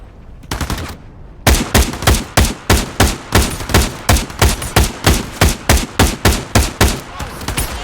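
Rapid gunfire from a pistol or rifle in the VR shooter Into the Radius 2, a short opening volley, a brief pause, then a long steady run of loud, close, evenly spaced shots.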